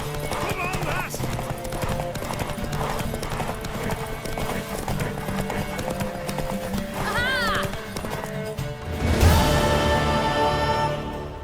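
In the video game The Witcher 3, horse hooves clip-clop rhythmically while a mare neighs shrilly, with people talking over the sounds and a louder burst of noise near the end.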